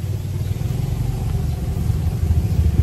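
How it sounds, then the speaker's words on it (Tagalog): A tricycle motorcycle engine runs at a steady low rumble and rises slightly toward the end, with no talk over it. "Sayang sila Sophie, hindi nila na-experience sumakay ng tricycle."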